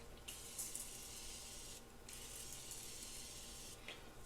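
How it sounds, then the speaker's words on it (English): Three short hissing bursts of Morphe Continuous Setting Spray over a steady background hiss, close to the microphone. "I'm going to use the Morphe Continuous Setting Spray"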